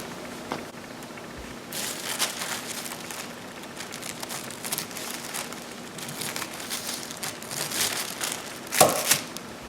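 Scissors snip and crinkle through a paper sewing pattern for pajama pants, a soft run of close, quiet cuts and paper rustling with a slightly louder crinkle near the end.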